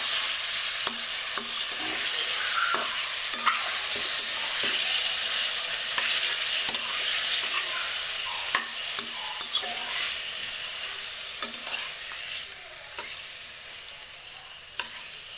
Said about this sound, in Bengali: এখন চিকেনগুলোকে অলিভ অয়েলের সঙ্গে ভালো করে মিশিয়ে নিচ্ছি।